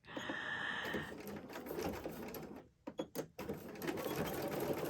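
A sewing machine stitches back and forth over webbing on a crossbody bag, running in steady bursts with a short pause and a few quick stops near the end, close and alone.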